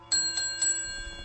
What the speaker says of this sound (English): Ring a bell.